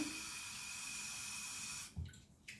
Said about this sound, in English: Okay, let's put some water